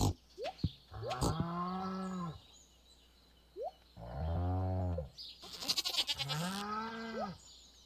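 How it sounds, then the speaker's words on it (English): A cow moos repeatedly in the Stardew Valley farm video game: three long, drawn-out lowing calls separated by pauses, fairly loud and clear over faint game ambience with small clicks between. "Here's a cow."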